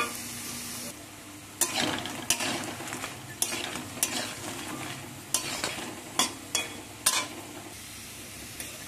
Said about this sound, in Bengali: হালকা আঁচে এগুলোকে ভাজতে হবে, না হলে বাইরটা লাল হয়ে যাবে আর ভেতরটা নরম রয়ে যাবে।